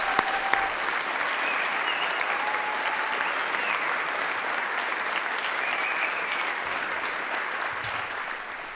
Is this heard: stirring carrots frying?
no